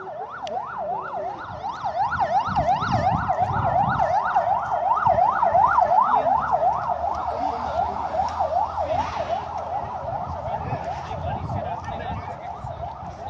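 A fire engine's wailing siren sweeps rapidly up and down on a Kathmandu street during unrest, loud and close for several seconds before fading into traffic noise.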